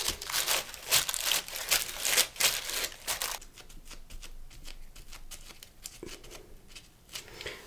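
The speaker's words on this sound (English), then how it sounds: "So now I'm going to take my tissue paper ." Tissue paper handled over a paint-covered gel printing plate during monoprinting, with brisk close crinkling and rustling bursts that ease into quieter, sparser rustles.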